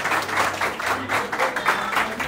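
An audience at a face-to-face smash-or-pass show in Congo-Brazzaville applauding a contestant, a brief burst of dense, even clapping that stays steady throughout.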